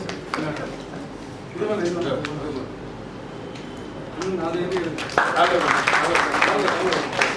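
Applause at a Tamil press meet for the film Saithan Cycle-la Varudhu, swelling in the second half beneath an announcer who keeps speaking over it.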